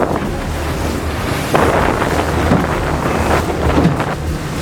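Strong wind gusting around 30 knots roars and buffets continuously, with gusts surging louder, over rushing water close by; no talking.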